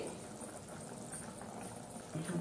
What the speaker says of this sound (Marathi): आपल्या भाजीला छान उकळी आलेली आहे